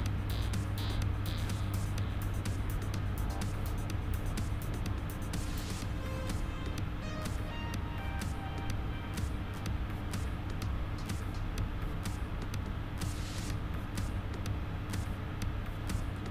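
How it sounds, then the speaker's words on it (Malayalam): A car drives through a road tunnel, giving a steady, loud, boomy road and engine rumble with a constant low hum and occasional faint clicks, continuous throughout. "ഇപ്പോൾ ഒരു ടണലിൻ്റെ ഉള്ളിൽ കൂടെയാണ് പോയിക്കൊണ്ടിരിക്കുന്നത്."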